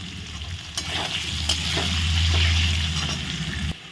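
Mixed vegetables and potatoes sizzle in a hot pan while a spoon stirs them, with a few scraping knocks over a steady, close frying hiss.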